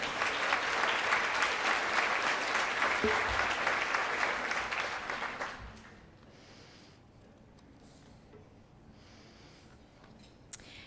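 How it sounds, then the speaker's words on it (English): An audience at an award dinner applauds its winners: sustained loud clapping from many hands for about six seconds, then fading to a quiet room with faint murmurs. "So a round of applause for them."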